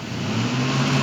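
A car engine drones steadily and loudly, its pitch rising slightly as the clutch is let out and the vehicle begins to pull away.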